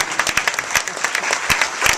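An audience at a Long Island Red Cross volunteer recognition awards ceremony claps in loud, dense applause that continues steadily throughout.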